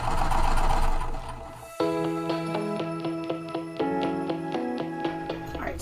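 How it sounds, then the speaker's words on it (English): Sewing machine stitching a quilting cotton wristlet, a steady mechanical hum with a quick repeating needle clatter, close and alone after a brief rustle of handling. "So I just finished sewing all the way down,"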